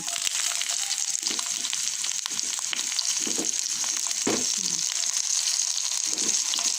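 Red onion hits hot oil with already browned garlic for a beef and tomato spaghetti sauce, giving a steady, loud sizzle throughout, with scattered stirring scrapes and soft knocks from the pan.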